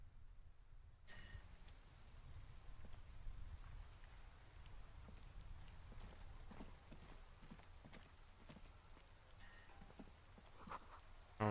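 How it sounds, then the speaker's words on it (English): Steady rain falls across a rainy street in the game Disco Elysium, a constant soft hiss of drops with occasional faint patters, continuous and moderately quiet, with no talking. "This rain will not let up anytime soon."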